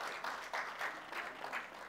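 Faint, distant applause from an audience at a crime-watch award ceremony in a hotel hall, with rhythmic bursts of clapping over a few seconds.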